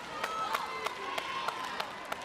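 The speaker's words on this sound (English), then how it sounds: "Applause well earned right there with that cut shot coming from Angela Leyva." Crowd at a women's volleyball Olympic qualifier between Peru and the Dominican Republic, rhythmic clapping in regular sharp beats mixed with cheering voices, moderately faint and continuous.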